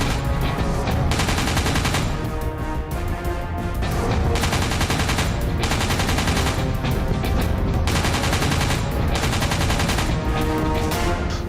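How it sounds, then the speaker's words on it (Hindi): Medium machine gun firing, a dense, loud, continuous roar of rapid shots with bursts that swell and break off every second or two, sounding close and unbroken by any voice. "MMG 1 मिनट में 600 से 1000 राउंड तक फायर करती है"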